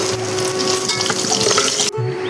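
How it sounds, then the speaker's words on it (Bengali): Pieces of pointed gourd (potol) sizzle steadily in hot oil in a covered pan, a loud, continuous frying hiss with light stirring clatter. "দেখুন, এপিট উপিট করে আমি ভেজে নিচ্ছি হালকা ঢাকা দিয়ে"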